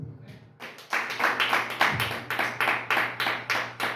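A church congregation claps loudly in rhythmic bursts during a French-language Sunday worship service, repeated strong claps forming steady applause that fills the room after a brief quieter start.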